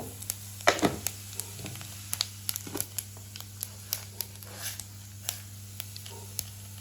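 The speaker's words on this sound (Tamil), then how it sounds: "சின்ன சீரம் தாளிக்க போகிறேன்" Spices tempering in hot oil for a crab curry with fennel seeds, crackling and sizzling in a quiet series of small sharp pops over a low steady background hum.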